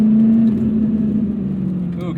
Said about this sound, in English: Little double clutch there in a second.